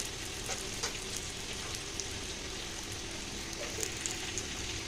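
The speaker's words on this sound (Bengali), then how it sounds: "এবার আলুগুলো ভেজে নিচ্ছি" Potatoes fry in oil, a continuous, even sizzle with small crackles and pops, steady and close throughout with no talk.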